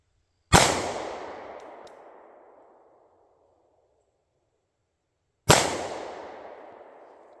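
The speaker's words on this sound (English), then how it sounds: "let's take a couple shots with it" Two loud derringer pistol shots fired outdoors several seconds apart, each a sharp crack followed by a long decaying echo.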